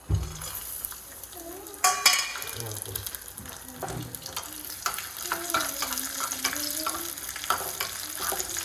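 Cashews and raisins fry in ghee with a steady close sizzle and repeated stirring scrapes and clinks of a spoon against the pan.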